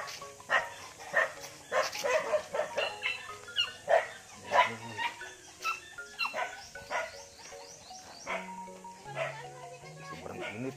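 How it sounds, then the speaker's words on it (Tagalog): Neighbours' dogs bark fiercely and repeatedly at fairly close range, with sharp irregular barks and occasional yips, while people talk over the barking throughout. "Tapang mga aso dito sa kapitbahay nila."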